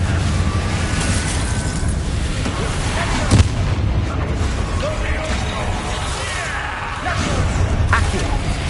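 Confringo blasting curse explosions in Hogwarts Legacy combat, with a sharp thudding blast near the middle set in a steady, dense wash of battle rumble and booms.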